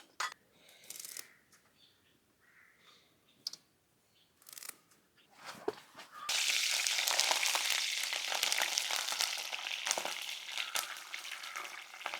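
Curry leaves hitting hot oil, left over from frying meal maker pakodi, burst into a loud, sustained close sizzle after several seconds of quiet scattered handling clicks and rustles.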